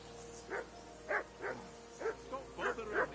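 A dog barks repeatedly in a steady run of about six sharp, mid-distance barks over a low background hum.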